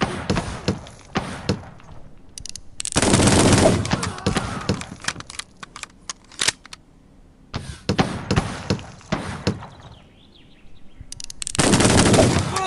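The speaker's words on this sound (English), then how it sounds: "That was a lot of shots." Rapid gunfire in a western-themed video game, loud repeated bursts of shots separated by brief pauses, with thumps and faint background ambience between volleys.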